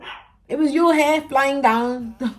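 A pet dog barks and whines in a home, several sharp close barks in quick succession while someone talks over them.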